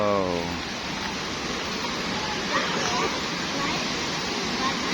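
Rushing water of the clear Panigan River stream in Baguio District, Davao City, pours as a dense, steady hiss close by, with a voice speaking briefly at the start.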